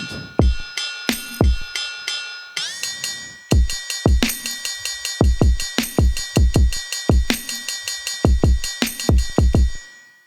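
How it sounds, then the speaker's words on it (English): A programmed drum beat from a Digitakt drum machine with punchy kicks and snares under a sustained, shimmering metallic ride cymbal, steady and fairly loud. "Let's do a ride sound."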